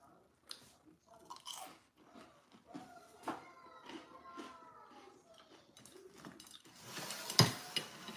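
Crispy food crunches under repeated bites, close and fairly quiet, with soft chewing sounds between the crunches and a louder crackle near the end.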